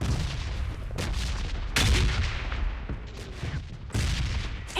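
Heavy gunfire in the battle game PUBG on the Sanhok map: a dense, continuous barrage of loud booming shots and bursts, with several sharp louder blasts standing out.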